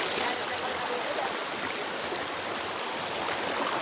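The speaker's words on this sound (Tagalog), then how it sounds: "Ang lakas ng agos, oh." Strong current of a river rushing through a mountain stream, a steady broadband wash of water filling the scene, close and continuous with no voices.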